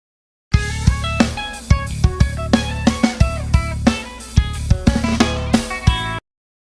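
An acoustic-style guitar plays the first verse at full tempo, with clear, bright plucked notes and chords ringing in a steady rhythm, played alone without any talking.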